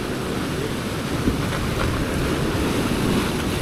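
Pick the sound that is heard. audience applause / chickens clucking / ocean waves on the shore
ocean waves on the shore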